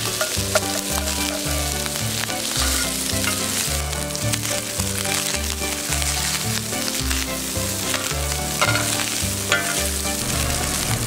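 Pork sausage browning in a hot pan, with a steady, dense sizzle and crackle that carries on unbroken, loud and close, alongside faint scraping and stirring.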